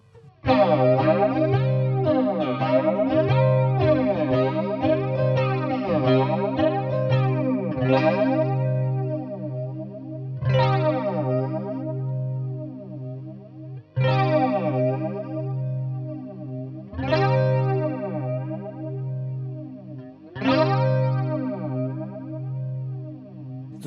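Electric guitar chords ring out through a KOD Flanger NG03 pedal, the whooshing jet-like tone rising and falling with each sustained strum, loud and continuous.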